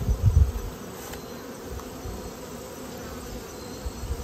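Honeybees drone inside an open hive, a steady low buzzing that continues evenly throughout, near and moderate in level with a few soft bumps at the start.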